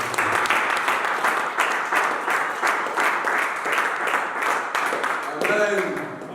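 A church congregation at an evangelistic service applauds and cheers, sustained rhythmic clapping filling the room for several seconds with crowd voices mixed in before it begins to fade.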